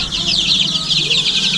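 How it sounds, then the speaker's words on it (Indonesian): Arab chickens in a coop cluck continuously with overlapping bird calls, close and steady, with no talking. "Ini adalah ayam Arab."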